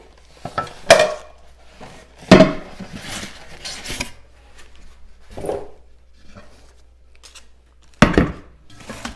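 A large 21-liter Presto pressure canner being unboxed and handled, its big metal pot giving a few sharp clanks and knocks between softer rustling and scraping.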